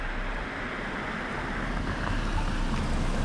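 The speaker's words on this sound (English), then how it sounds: "walking into the wind. It's also considerably cooler when it's windy out." Steady wind blows outdoors on a cold winter day around -4 degrees while walking along a city street near Wychwood Park, a continuous broad rush buffeting the microphone with no speech.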